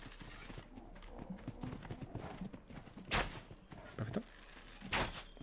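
Glitchy horse hooves clip-clop in the video game ARK, with a quick run of soft hoofbeats punctuated by a few louder bursts of noise.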